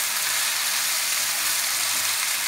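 Ivy gourd (kovakkai) sautéing in a pan for a masala, a steady even sizzle and hiss, close and continuous, with no voices.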